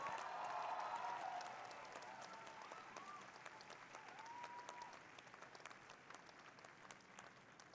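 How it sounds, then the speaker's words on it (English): Audience applause rising for a graduating class at a university convocation, a dense wash of clapping that is strongest at the start and then eases to a steady, fairly distant patter, with faint overlying voices. "please give a big round of applause to the class of 2024"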